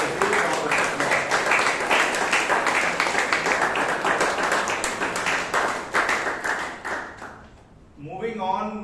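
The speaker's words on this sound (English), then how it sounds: "Please give the evaluator and a good round of applause." An audience at a Toastmasters meeting in Bangalore claps in steady, dense applause for several seconds, fading out near the end as a voice begins speaking.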